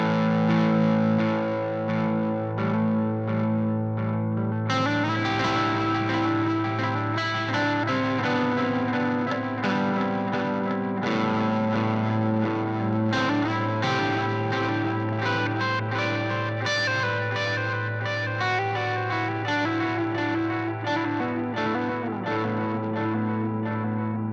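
Electric guitar played through an EarthQuaker Devices Avalantron delay and reverb pedal on a personal pedalboard, giving a steady, sustained stream of chords and notes with a washy, effected tone at even loudness, with no talking.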